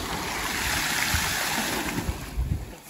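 Continuous water rushing in a fresh-water swimming pool, steady broadband wash with a few low splashes near the end, no talking.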